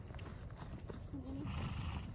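A horse moving under a rider during a forward-motion fluidity drill, soft rhythmic hoofbeats and tack sounds with a brief snort or whinny-like tone, heard close beneath someone talking.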